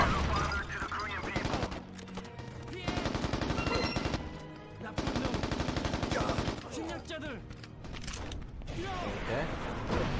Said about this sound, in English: Boom. Heavy machine guns.